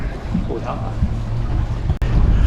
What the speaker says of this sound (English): That wind has come up big time out of nowhere for no reason.